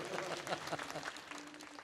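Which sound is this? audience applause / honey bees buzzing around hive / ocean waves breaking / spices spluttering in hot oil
audience applause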